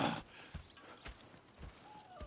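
Horse hooves clip-clopping in the Red Dead Redemption 2 video game: soft, evenly spaced thuds at a walking pace, faint and close, with no talk.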